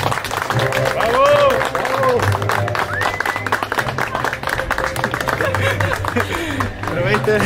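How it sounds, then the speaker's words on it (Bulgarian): Applause and cheering from guests at a civil wedding, with music playing and voices mixed in throughout. "Моля за вашите аплодисменти, нека да ги приветствам."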